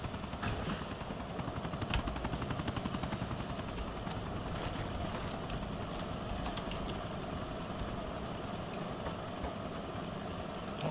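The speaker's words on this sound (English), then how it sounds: "I'm gonna pilot a helicopter" A helicopter in Grand Theft Auto IV runs continuously with a loud, rapid rotor chop layered over a steady engine drone, close and constant throughout with no talk.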